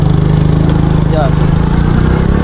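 A motorcycle engine idles steadily and loud up close for the whole stretch, a low throbbing hum, while people talk over it on a storm-damaged road.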